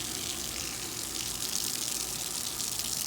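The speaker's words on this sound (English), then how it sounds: "we're gonna be filling our pool using the Pool Century auto filler" Water filling a pool from a Pool Century auto filler makes a steady, even gushing hiss that stays constant from start to end.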